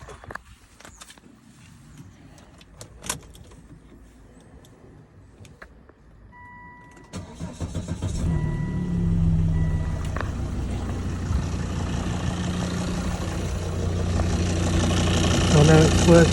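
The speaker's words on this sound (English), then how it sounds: "You can come and start the vehicle." A Volvo S80 with a newly fitted alternator starts after a quiet stretch. The engine catches with a rising roar and settles into a steady, loud idle that builds slightly toward the end.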